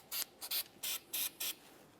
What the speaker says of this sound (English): Now we can move along to using some copper never seize inside of the splined area of the bearing.